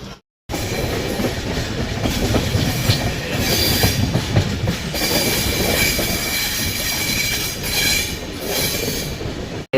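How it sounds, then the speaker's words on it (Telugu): The Janmabhoomi Express runs after pulling out of Tadepalligudem station, with a steady loud rumble of wheels on rails, rhythmic clacking and intermittent high squeals, heard close from on board. "మళ్ళీ మన బండి స్టార్ట్ అయిపోయింది తాడేపల్లి నుంచి"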